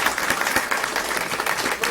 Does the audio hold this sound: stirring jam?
no